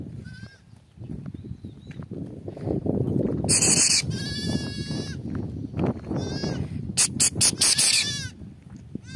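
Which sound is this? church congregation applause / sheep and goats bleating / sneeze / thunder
sheep and goats bleating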